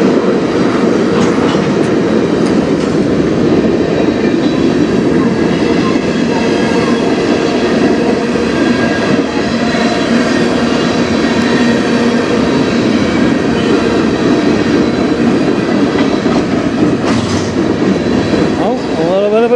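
A train rolls past on the Strathroy Subdivision near Sarnia, a loud, close, continuous rumble with steady wheel clatter and rail noise throughout, rising briefly near the end.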